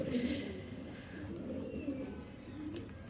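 A racing pigeon in a loft coos in soft, low, murmuring tones, quiet and close, against a faint background hum.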